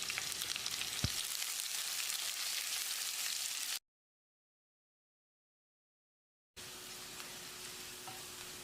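Sliced onions and curry leaves sauté in a hot pan, giving a steady, close crackling sizzle with a short stir clatter near the start; the sound cuts out midway and then resumes at the same level, with no talking.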